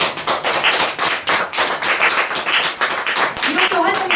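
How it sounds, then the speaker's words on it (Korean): A church congregation claps together for a deaconess, a loud, dense and steady round of applause filling the room for several seconds, with a voice rising briefly near the end. "신미숙 집사님을 위해서 다 같이 박수"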